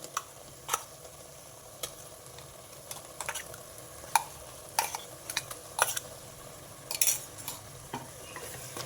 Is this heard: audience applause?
no